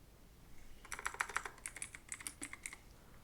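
Rapid typing on a computer keyboard, a quick run of crisp clicking keystrokes that starts after a short pause and carries on steadily at close range, with no voices.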